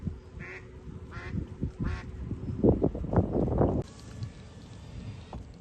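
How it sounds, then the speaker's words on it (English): A small duck quacks several times beside a creek, a short run of nasal calls in the middle that grows louder, over low outdoor rumble, followed by a steady hiss that sounds like rushing water. "The little duck is making noises."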